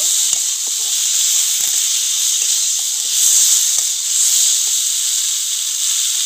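Pumpkin and potato curry sautés with turmeric in a hot pan, a loud, steady close sizzle and hiss running throughout with a few faint clicks of stirring.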